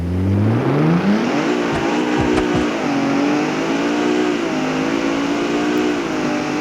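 A Mercedes-Benz GT63 4-door launching hard in the BeamNG.Drive driving game, its engine note rising in a loud continuous rev and then holding a sustained high-pitched drone as the car keeps accelerating.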